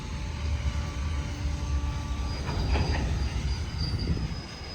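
A freight train passing close beside the railway line, a steady heavy rumble of wagons with rising wheel squeal and clatter toward the end.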